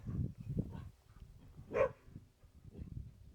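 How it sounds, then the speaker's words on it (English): A guard dog gives a few short, moderately close barks and yips, with quieter gaps between them. "She's a guard dog."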